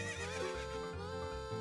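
A horse neighs in Ocarina of Time, one drawn-out whinny heard clearly and alone, with a faint clip-clop of hooves beneath it.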